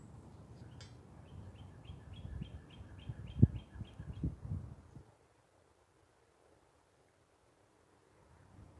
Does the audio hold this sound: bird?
yes